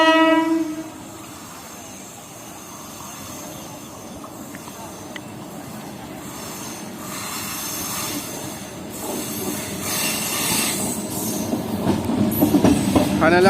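At Azimganj City station a Katwa–Rampurhat MEMU passenger train sounds a brief horn, then rolls through with steady rumbling, clattering wheels and rising squeals, growing louder toward the end.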